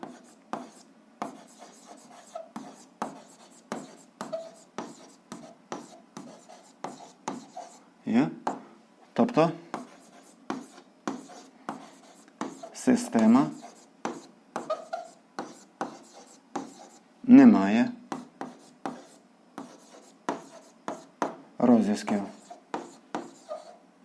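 A pen scratches across paper while an algebra exercise answer is written out, with short, repeated dry strokes and a few louder scrapes spread over the stretch, and a voice speaks at times between them.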